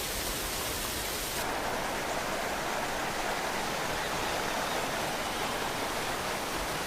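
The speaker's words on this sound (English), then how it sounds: "Below the moors, waterfalls spill into wooded ravines." Waterfalls spilling into wooded ravines below the moors of the Aberdares in Kenya give a steady, dense rushing roar that holds evenly throughout, with no voices over it.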